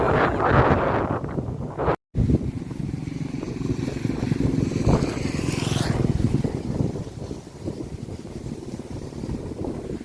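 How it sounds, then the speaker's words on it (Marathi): Strong wind roars steadily into the microphone, a dense continuous rumble with gusty swells and no voices. "भयानक वाऱ्याचा जोर आहे"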